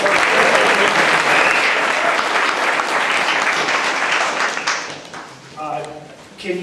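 A crowd claps in a sustained round of applause at a presentation, dense and loud for several seconds before thinning out; a voice then speaks over the fading claps.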